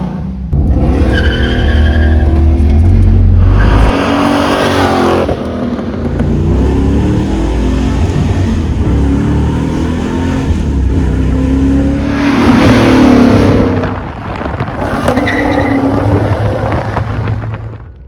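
A 1984 Chevrolet Z28 Camaro accelerating hard with tires squealing, loud engine roar rising in bursts and long screeching skids, close and continuous for about eighteen seconds.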